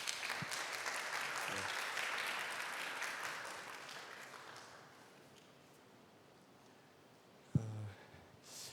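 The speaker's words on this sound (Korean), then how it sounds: "혹시 같이 괜찮으시면 격려의 박수 한번 부탁드려도 될까요?" An audience at a Korean global citizenship talk event applauds in encouragement, steady clapping that gradually fades to near quiet, then a brief sharp thump and rustle near the end.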